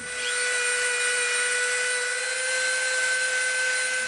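A high-speed rotary tool whines steadily as it rounds off the edge of an EVA foam piece for a Lego Rocket Raccoon blaster prop, a continuous close, loud tone with no talking.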